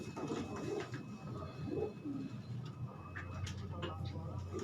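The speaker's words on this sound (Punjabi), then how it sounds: "ਇਹ ਕਿਹੜਾ ਕਬੂਤਰ ਆ ਸਰ" Pigeons coo softly in a loft where a keeper handles the birds, low rolling calls repeating under nearby talk and background bustle.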